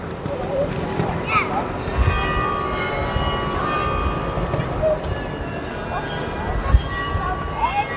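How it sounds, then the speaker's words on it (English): Church bells ring through a Belgian city street, their tones layered over a steady outdoor wash of ambient noise with faint voices and movement nearby, sustained throughout. "These magical sounds of the bells is something that definitely makes Belgium stand out."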